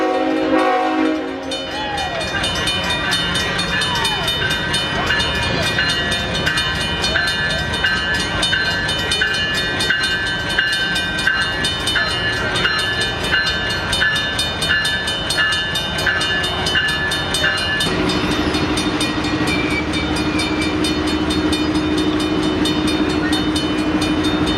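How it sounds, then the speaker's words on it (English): A Pacific Railroad train passes close by, a loud sustained rumble of rolling cars with horn-like tones riding on top throughout, shifting in pitch near the end. "What is your experience in that train?"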